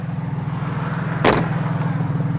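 A 1995 Toyota Supra idles with a steady low, pulsing engine note. About halfway through comes one short, sharp blip of the throttle, and then the idle settles back to the same rhythm.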